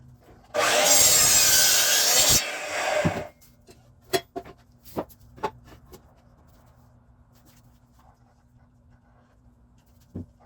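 A Delta miter saw on its stand cuts through lumber with a loud, close, harsh roar lasting a few seconds, followed by scattered wooden knocks and clatter as the workpiece is handled.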